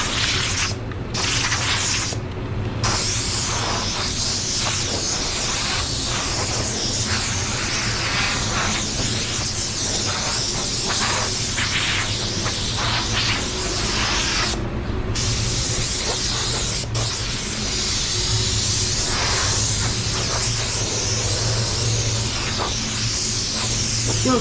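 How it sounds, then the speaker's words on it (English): A static gun blasts a continuous loud hiss of compressed air across a car's fresh paint, with only momentary breaks as the trigger is released. "I'm gonna get the static gun"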